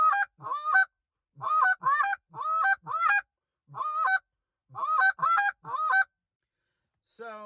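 A handheld goose call blown in a series of about ten short honks, each a moaning note that breaks sharply upward, played in uneven bursts of one to three, loud and close with no talking.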